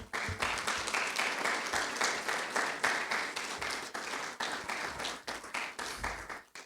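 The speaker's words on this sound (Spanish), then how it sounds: "Denle un aplauso al Señor" Steady congregational applause in a church service, a continuous wash of many hands clapping with slight rhythmic pulses, fairly close and loud, without talk over it.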